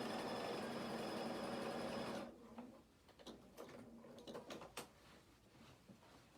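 A sewing machine runs steadily for about two seconds, stitching around the pocket of a denim skirt, then stops, followed by quieter clicks and handling of fabric and parts.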